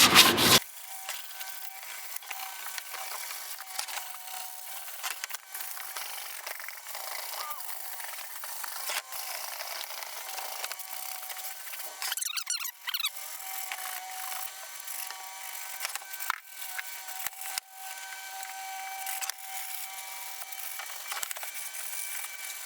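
A wooden bathroom vanity door is sanded by hand, giving steady rasping rubs in irregular strokes throughout, close to the microphone and without talking.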